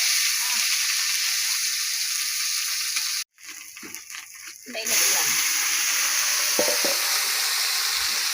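Mustard seeds and garlic fry in hot oil, giving a loud steady sizzle that drops away briefly midway as something is stirred or added, then resumes strongly with a few pops near the end.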